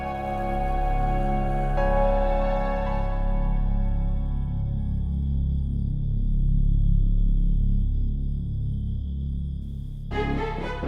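A mobile phone rings with a steady electronic tone that holds loud and continuous for most of the stretch, then cuts off near the end as a new sound begins.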